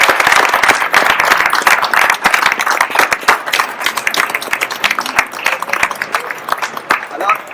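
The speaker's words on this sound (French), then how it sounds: "Je pense qu'on peut applaudir quand même." Audience members clap together in a lively round of applause, individual sharp claps standing out within the steady patter for several seconds, fairly close and unbroken.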